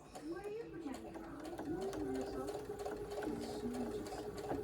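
A Baby Lock sewing machine stitches fabric for paper piecing, its rapid mechanical whir speeding and slowing in close, steady bursts while someone talks over it.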